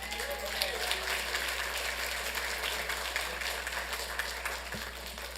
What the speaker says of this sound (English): Let's have another round of applause for our carpenters.